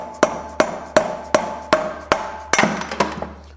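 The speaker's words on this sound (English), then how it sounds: "what I'm using is an extension with a dead blow hammer" A dead blow hammer strikes an extension to tap a bearing out of a dirt bike, about ten sharp, evenly spaced metallic knocks close up with short decays, no talk.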